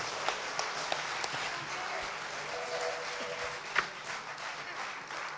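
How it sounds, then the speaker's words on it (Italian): Theatre audience at the Bagaglino applauds a performer from Torlupara, a broad, even clatter of many hands heard from within the hall, with a few sharper individual claps standing out near the end. "Grande applauso a Gabriele Di Pietro da Torlupara"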